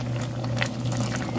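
Shrimp soup with vegetables boiling in a pot, a steady close bubbling simmer with soft pops and patter, continuous and alone.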